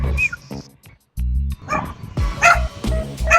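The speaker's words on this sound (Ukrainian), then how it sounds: "Ізраїльська собака." A dog in Israel barks loudly and close by, giving several sharp barks and yips in uneven bursts with brief whimpering sounds in between.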